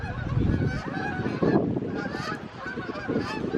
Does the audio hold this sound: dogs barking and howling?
no